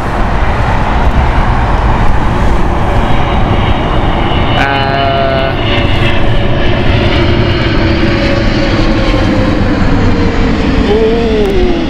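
A Boeing 747 roars loudly and steadily at Heathrow Airport, a continuous jet engine rumble filling the whole stretch, with a faint rising whine near the end.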